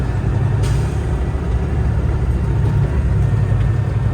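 A Kenworth truck pulling away in first gear and driving past, a loud, heavy low engine rumble that stays strong and steady throughout, with a brief hiss near the start.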